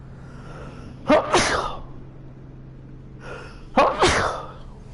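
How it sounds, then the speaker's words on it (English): A person sneezes twice, about three seconds apart, each time with a short inhaled gasp before a loud, sharp burst of breath, close to the listener and with a faint hum in the room behind. "Don't know why I'm sneezing so much today."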